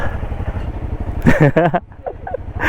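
Off-road motorcycle ridden by a new rider around a rough property course, its engine a steady low drone throughout, with a person talking over it midway.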